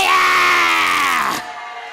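A church congregation shouts and cheers together in a loud, sustained roar of many voices that cuts off abruptly near the end, leaving a quieter room tone.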